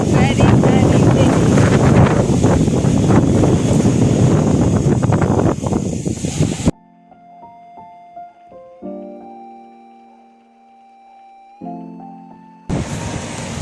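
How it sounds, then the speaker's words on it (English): Strong wind buffets the microphone outdoors in drizzly weather in the UK, a loud, steady roar that cuts off abruptly and returns at the end. "very windy."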